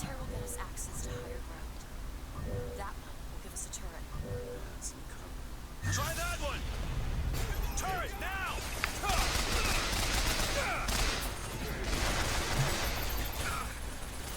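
Rapid bursts of gunfire in the video game Bioshock Infinite rattle through a busy mix of game sounds and a talking voice, growing denser and louder in the second half.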